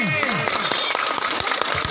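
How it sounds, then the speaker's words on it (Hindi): Audience clapping breaks out at a staged Krishna birth play, a dense, steady patter of many hands heard close, with voices carrying over it. "अगर आपको यह नाट्य संस्कृति पसंद आई हो तो जोरदार तालियां बजाइए"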